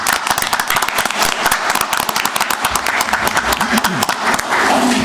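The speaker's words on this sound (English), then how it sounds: "So we'll give her a round of applause." Applause at a Baldwin County Commission regular meeting after an award presentation, dense crowd clapping filling the room, loud and steady, with voices murmuring underneath.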